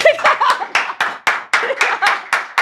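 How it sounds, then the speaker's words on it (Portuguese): A few people clap near the microphone during a podcast recording, with sharp individual claps in loose bursts and some light chuckling mixed in. "Vou te aplaudir de pé"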